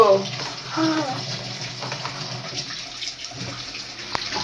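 A tap runs steadily while something is washed, the water splashing and gurgling close by, with a voice speaking briefly near the start.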